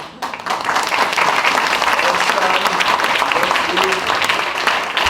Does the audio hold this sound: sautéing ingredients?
no